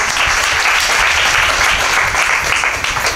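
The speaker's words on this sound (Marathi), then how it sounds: "जोरदार आईसाठी तर जोरदार टाळ्या वाजवा" Loud, sustained applause from an audience at a Marathi kirtan, dense clapping filling the whole stretch without a break.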